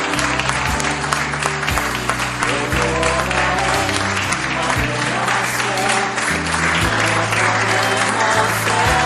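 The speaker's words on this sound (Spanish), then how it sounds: "Démosle palmas." Church congregation clapping steadily and loudly throughout, a dense unbroken rhythm of palms, with musical accompaniment underneath.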